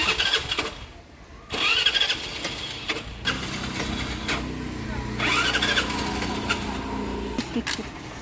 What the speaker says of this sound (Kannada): ಸ್ಕೂಟ್ರೇ ಸ್ಟಾರ್ಟ್ ಆಗ್ತಾ ಇಲ್ಲ